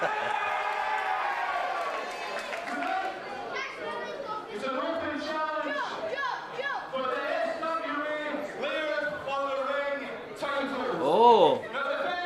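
Wrestling arena crowd cheering and chattering as a returning wrestler appears, a loud, busy mix of many voices with a brief swell of cheers near the end, while people talk close by.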